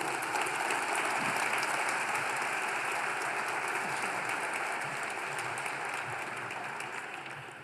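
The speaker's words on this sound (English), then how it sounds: "let's bring a big round of applause for Michelle and bring her up here to announce the award" An audience at an evening health awards ceremony gives a big round of applause, with dense, steady clapping that continues for several seconds and then begins to fade.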